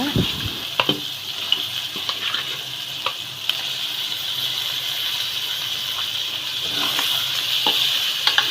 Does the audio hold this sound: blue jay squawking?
no